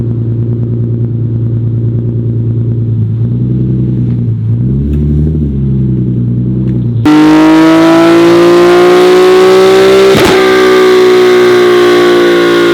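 A Nissan 370Z fitted with an aftermarket intake revs on a dyno, first a low rumbling engine drone, then a sudden loud high-pitched wail climbing steadily through the gears.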